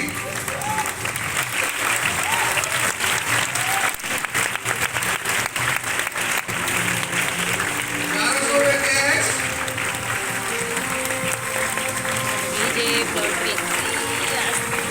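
A loud, dense applause from an audience at a recognition ceremony, steady throughout, with a voice over it and faint music in the background.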